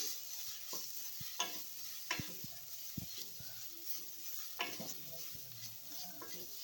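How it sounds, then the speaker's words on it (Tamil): Spices sautéed with chili powder and curry masala for a Salem-style bread roast, giving a steady soft sizzle with scattered scrapes and stirring knocks of a spoon against the pan, moderately quiet and with no voices. "மிளகாத்தூள், கறி மசாலா இதெல்லாம் சேர்த்துட்டு நல்லா வதக்கிக்கலாம்"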